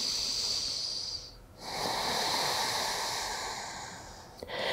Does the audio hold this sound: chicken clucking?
no